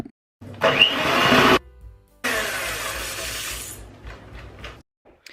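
An electric mixer whirs loudly through cake batter made with olive oil and anise-fennel seed powder, running in two bursts with a short pause between, then winding down to quiet.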